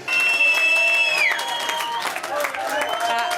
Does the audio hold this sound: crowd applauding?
yes